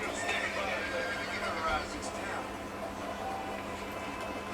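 Horses in the Red Dead Redemption video game whinnying loudly and repeatedly, with hoof clatter underneath, during a shootout in a town, close and busy, with someone talking over it.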